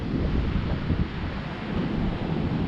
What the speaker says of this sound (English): Meanwhile, behind, the waves are, here you go, initializing sensors, and the waves are coming in